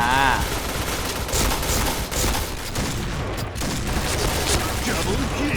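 Rapid bursts of gunfire from the Point Blank first-person shooter, a dense fusillade of shots loud and close throughout, with a voice talking over the shooting.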